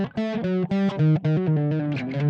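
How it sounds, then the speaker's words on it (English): A distorted, effected melodic line steps through an unusual, exotic-sounding scale, notes sliding and held in a continuous run. "that's an exotic sounding scale"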